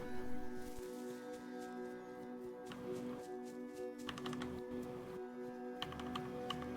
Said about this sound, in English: I can hear you tapping your keys on your radio there.